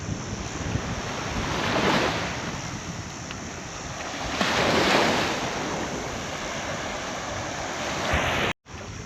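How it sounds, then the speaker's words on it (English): Gusting wind and surf roll across a beach at Lucinda Bay on Moreton Island, a continuous loud roar that swells with gusts and buffets the microphone, alone without voices before a brief cut near the end. "It's still gusting, a lot of wind"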